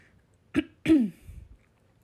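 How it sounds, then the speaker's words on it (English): Two short, sharp coughs in quick succession, close and fairly loud, followed by a brief low rumble and then quiet. "I woke up this morning with like a weird cough that came out of literally nowhere"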